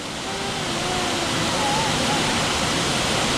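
A waterfall roars in a continuous, loud wash of white noise, close and unbroken, with faint voices barely rising above it.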